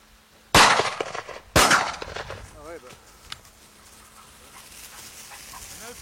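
Two loud, sharp dog barks about a second apart ring out close by, followed by faint high whining and quiet rustling background.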